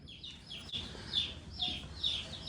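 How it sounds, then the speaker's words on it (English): Several Cornish Cross meat chicks chirp in a box, high peeping calls repeating in short bursts over a low hum of background noise. "We got our little chicks in this box right here"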